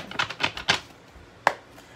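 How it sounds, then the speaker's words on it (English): Crisp, papery flicks of tarot cards being shuffled come in a quick cluster, then a pause and one more snap, close up. "I'll put the cards back and then we'll keep shuffling"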